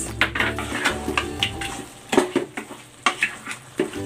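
A spoon stirs pineapple tidbits into pork ribs adobo in a pan, making repeated scraping and clinking strokes over a faint sizzle, close and fairly loud.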